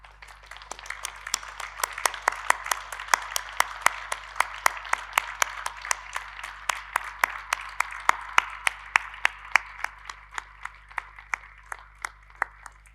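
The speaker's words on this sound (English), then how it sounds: "give your families and friends a round of applause to thank them" Graduates at an Open University degree ceremony in Milton Keynes applaud their families and friends, a sustained room-filling round of many hands clapping, steady and moderately loud throughout, with individual sharper claps standing out near the microphone.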